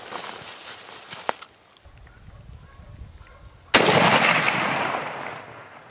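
A straight-pull Helix rifle fires on a boar during a driven Monteria hunt, a loud sharp crack and broadband blast at the midpoint with a long decaying rumble after, plus a fainter report earlier amid outdoor ambience.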